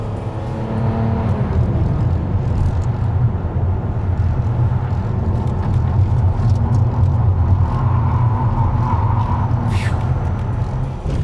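A powerful V12 engine in an older car drones steadily from inside the car, its pitch shifting as it accelerates, with constant road rumble throughout.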